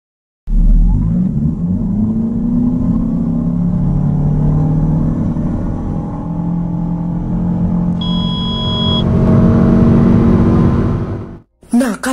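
A Toyota Camry accelerates hard from 0 to 100 km/h, a loud engine roar rising through the gears, with pitch climbing and dropping at shifts, before cutting off abruptly.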